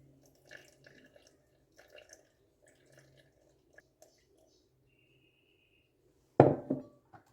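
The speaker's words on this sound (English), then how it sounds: "And I'm going to add 50 grams of water." Water poured into a rye sourdough starter in a kitchen, heard as one short, fairly loud splashing pour near the end after quiet handling noises.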